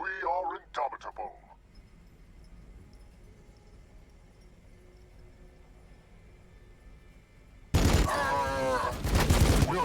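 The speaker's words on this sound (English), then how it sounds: "We are taking fire." Gunfire in a Warhammer 40,000: Battlesector multiplayer match between Blood Angels armies, with a loud, dense burst of shots arriving late after game speech and a quiet stretch.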